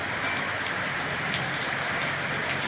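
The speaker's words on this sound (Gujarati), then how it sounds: "હા, વરસાદ કેવો જોરદાર મુસળધાર વરસી રહ્યો છે બિદડામાં" Heavy torrential monsoon rain pours down steadily in Bidada, a dense, unbroken roar of drops hitting surfaces, close and constant with no talk.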